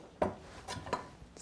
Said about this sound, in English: So we're gonna thinly slice this onion.